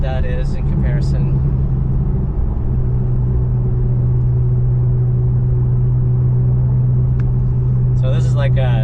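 A Porsche 991 engine pulls hard with a steady, loud, droning rumble heard from inside the cabin, holding a constant low tone throughout, with brief voices at the start and end.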